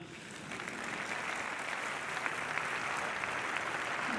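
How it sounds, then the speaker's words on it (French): Sustained applause from a crowd at a French Army capabilities presentation, steady and dense clapping that swells slightly and keeps going throughout. "Donc je pense qu'eux aussi on peut les applaudir."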